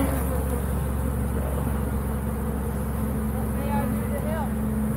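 Bees buzzing around an opened hive, a dense steady drone close by with individual insects whining past, continuous throughout and fairly loud.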